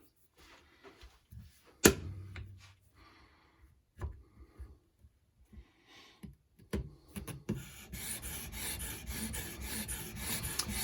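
A Benchmade Nim Cub knife blade is drawn across an Edge Pro sharpening stone in short scraping strokes, sparse and quiet at first, then a denser, louder rasping stretch toward the end.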